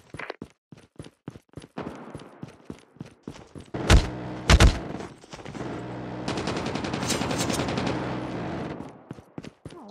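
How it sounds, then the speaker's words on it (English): Sentry gun fire in a Call of Duty match: rapid, regular automatic bursts nearby, with a couple of heavier blasts midway and a dense sustained stretch of fire before the shots thin out again. "Hostile sentry gun in your AO."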